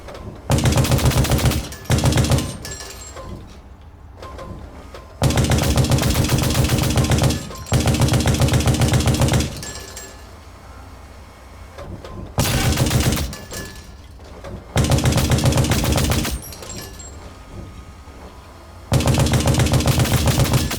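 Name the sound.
coaxial machine gun firing in the video game Hell Let Loose: Vietnam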